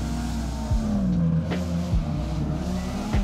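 Car engine in the Drift 21 racing game revving steadily while drifting, with rising and falling pitch sweeps and short gear-change dips on stock tires, loud and continuous with no talk.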